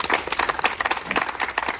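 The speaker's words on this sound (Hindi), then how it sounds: "इसीलिए इनके लिए जोरदार तालियां बजा दीजिए।" Enthusiastic audience applause at an award ceremony for push-up challenge winners, a dense burst of close, loud clapping with irregular individual claps standing out.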